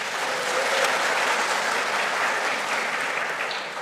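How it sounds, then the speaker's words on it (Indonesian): A church congregation at a Sunday men's fellowship service breaks into loud, sustained applause, a dense clapping crowd that fades slightly near the end. "Kita tepuk tangan dulu, tidak apa-apa."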